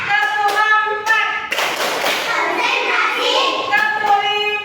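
A second-grade class clapping in unison: a brief run of crisp, close hand claps in a counted pattern, surrounded by children chanting along in the room.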